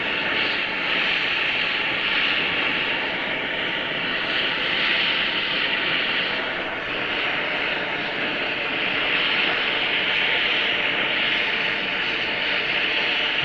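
Gas torch roaring steadily while heating a stuck hydraulic cylinder pin on a Case 580 backhoe, a continuous loud hiss at close range with no pauses.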